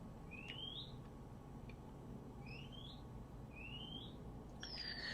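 Birds sing outdoors somewhere in the distance, giving four short rising chirps spaced about a second apart over a low steady background hum, faint and unaccompanied by any voices.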